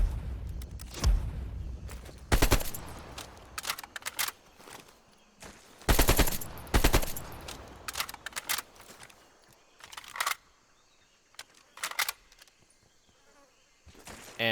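Bursts of rapid automatic fire from a DM Ultra rifle with no attachments in a video game, loud clustered volleys separated by short gaps, with no talking.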